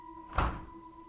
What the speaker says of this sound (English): the fridge door suddenly closes, all by itself